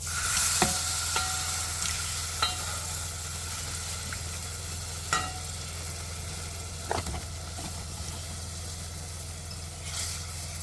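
Venison stew browning in a pan on a home stove, a steady sizzle and fry with occasional clinks and stirring knocks as potatoes go in, no talking.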